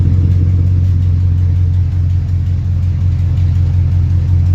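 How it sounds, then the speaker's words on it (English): A truck engine with an exhaust leak near the header idles loudly and close, a constant deep rumble with a faint ticking texture, with no talking over it. "Got a bit of an exhaust leak up here by the header."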